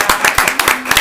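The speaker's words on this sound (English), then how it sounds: "Can we clap for him just because we love him?" Audience at a city council meeting applauding for Zach: sharp, fairly close claps in an uneven rhythm, with a faint voice underneath.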